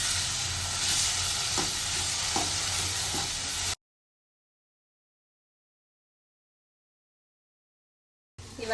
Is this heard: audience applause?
no